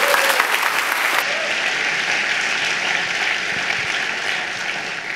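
An audience at a talk applauds for Ali, dense clapping filling the room steadily for several seconds at a fairly loud, even level.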